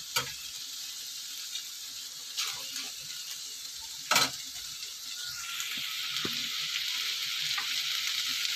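Oil sizzles softly in a pan while preparing a prawn and egg curry, a steady faint hiss with a few sharp clinks and scrapes of utensils, no voices.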